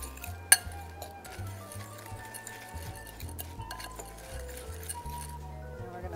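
Ingredients for a mocha pudding cake, including mini chocolate chips, stirred together in a glass bowl, giving steady clinking and scraping of utensil against glass with one sharp clink near the start and a low background hum.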